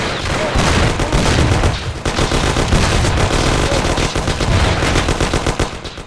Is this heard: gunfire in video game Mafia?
yes